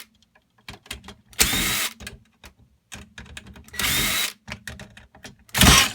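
Power drill backing screws out of a Keurig K10 coffee maker casing, three loud whirring bursts of about a second each, separated by quieter clicks and handling noises up close.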